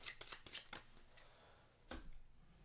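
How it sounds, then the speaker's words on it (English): Playing cards are shuffled into a deck during a Marvel Legendary card game, with a quick burst of riffling flicks followed by a softer pause and one more riffle, close and fairly quiet with no talking. "Shuffle this into the deck."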